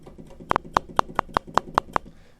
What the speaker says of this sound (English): We have a metronome sounding device as an audio instrument, software instrument, called Klopfgeist.